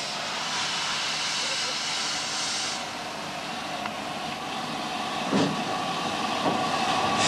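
A worn-out colliery steam locomotive at Hafod Irinis near Pontypool, leaking steam, labours up a steep gradient hauling a few trucks, giving a steady loud rumbling roar with a couple of sharper knocks near the end.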